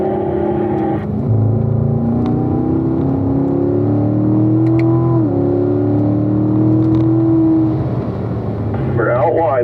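A car's engine climbs steadily in pitch while accelerating uphill on a race track at a driving school, loud and continuous, with an instructor talking over it throughout.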